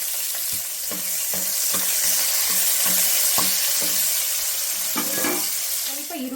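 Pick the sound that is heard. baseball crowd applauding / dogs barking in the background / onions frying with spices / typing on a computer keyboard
onions frying with spices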